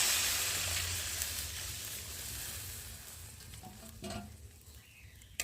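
Tilapia curry with taro and added water being stirred in a pan: a loud, wet sizzle and hiss with scraping stirs, easing off over a few seconds, with a brief clatter near the end and no voices.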